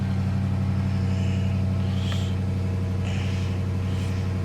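Dodge Charger Pursuit highway patrol car from 2019, its engine idling in a steady low rumbling purr with slight revving swells, close and continuous throughout, with no talking.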